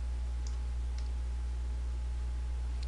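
Computer mouse clicks during a graphics software tutorial: three crisp, isolated clicks spaced apart over a constant low electrical hum.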